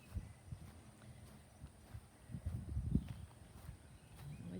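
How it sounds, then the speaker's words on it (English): Faint hooves clop slowly on the ground as horses walk nearby, irregular steps amid soft outdoor rustling. "The horses are following me."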